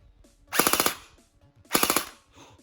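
A KWA VM4 Ronin T6 airsoft rifle on a 1300 mAh 7.4 V LiPo fires two loud, close bursts on full auto, each a rapid rattle of about six shots, separated by a short pause.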